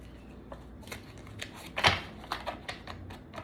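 Crisp, close snaps and slaps of tarot cards laid down one after another onto a spread, irregular light card hits with one louder flick in the middle.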